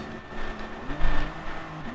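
A Peugeot 908 HDi prototype race car in Gran Turismo, on the Nurburgring GP circuit in an endurance race, holds a steady engine drone with a brief swell in revs midway, heard alone without talk.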